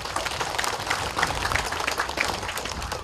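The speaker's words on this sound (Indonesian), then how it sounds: "Tepuk tangan untuk Pak Gubernur." Crowd at a regency anniversary celebration in Ilaga, Papua applauding the governor, a dense, steady roar of many hands clapping at moderate distance with no talk over it.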